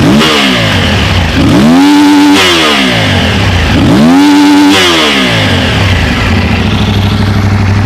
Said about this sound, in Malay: So jom kita rev sikit motor ni.